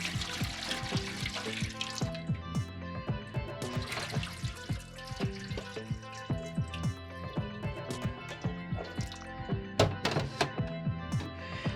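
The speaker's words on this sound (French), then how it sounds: "Je vais encore rincer une dernière fois" Cut potatoes for homemade chips being rinsed and stirred in water in a bowl, with splashing, sloshing and hollow knocks repeating irregularly up close, no talk.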